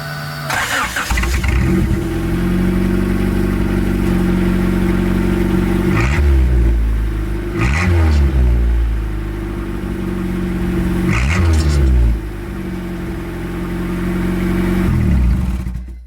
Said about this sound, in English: What kind of person would I be if I didn't turn on the car without a muffler?